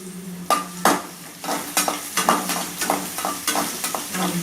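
Onions sizzle and crackle steadily in a hot pan, frying until golden for Tamil mutton curry, with repeated scraping and stirring knocks on top.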